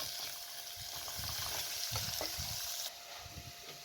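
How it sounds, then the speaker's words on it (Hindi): Minced keema browning with golden onions in hot oil, a continuous close sizzle and crackle with occasional stirring, alone without talk. "अब इसके अंदर आप कीमे को शामिल करके भून लें।"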